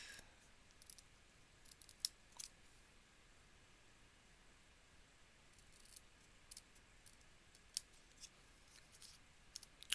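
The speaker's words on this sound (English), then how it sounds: "we're going to cut a V into this" Scissors cut a V into a piece of card, with faint, quiet snips and clicks scattered over a low background hiss.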